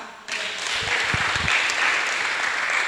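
A church congregation bursts into applause during a sermon, the clapping starting abruptly and holding steady at moderate loudness as a dense wash of hands, with a few low thumps early on.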